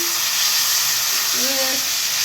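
Capsicum and poppy seed paste frying in a pan, a steady bright sizzle that stays even and fairly close throughout, with a brief faint tonal squeak partway through.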